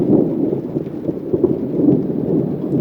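A heavy thunderstorm rumbles continuously at close range, with a dense low roll of thunder and steady pounding rain or hail, loud and unbroken throughout.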